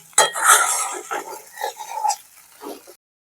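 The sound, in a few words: stirring chire pulao (flattened rice pilaf) in a pan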